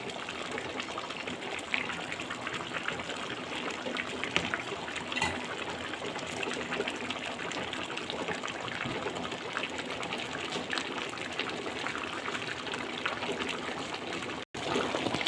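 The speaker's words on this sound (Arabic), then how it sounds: "ازود صينية البطاطس بالشوربة بتاعة اللحمة الجميلة الفاتحة الجميلة جدا بالشكل ده" Warm lamb broth poured over a tray of potatoes makes a steady, continuous liquid splashing and trickling sound, close and even throughout.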